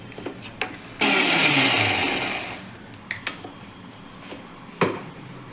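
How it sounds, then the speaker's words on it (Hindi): A kitchen mixer grinder blending tamarind water with spices for pani puri water: one loud whirring burst of about a second and a half that winds down, followed by scattered clicks and knocks. "अब हम इसे मिक्सी में चलाते हैं।"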